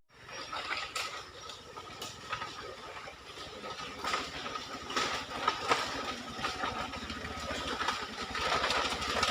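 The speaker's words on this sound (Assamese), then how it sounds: "আমি বাঁহৰ সাঁকোখনেদিয়ে আমাৰ বাইক পাৰ কৰিব লাগিব" A motorbike rolls across a bamboo bridge in rural Ri-Bhoi, Meghalaya, its engine humming steadily with repeated clattering knocks from the bamboo slats, a rough, continuous rumble that grows louder toward the end.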